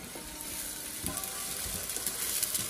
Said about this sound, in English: You're going to sear it up.